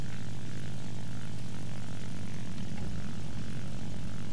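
Propeller airplane engine in a video game, a steady loud droning hum with a deep low rumble that holds evenly throughout, with no talk over it.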